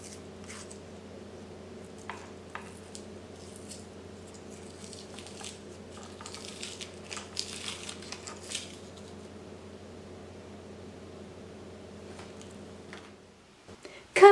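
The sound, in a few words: peeling an onion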